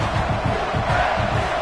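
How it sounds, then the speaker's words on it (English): Football stadium crowd roaring as the defense pins the opponent deep in their own end: a dense, loud wall of cheering and yelling that holds steady throughout. "this crowd trying to help keep them there"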